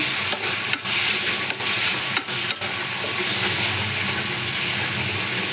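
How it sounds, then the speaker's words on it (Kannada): Radish fries in a pan with a steady, loud sizzling hiss, punctuated by several quick scraping stirs of a spoon in the first half, continuing without speech. "ಚೆನ್ನಾಗಿ ಫ್ರೈ ಮಾಡ್ಕೋಬೇಕು"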